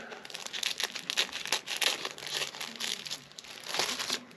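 Crinkly plastic rustles and snips close up, a series of quick crackling bursts as a bag is cut open.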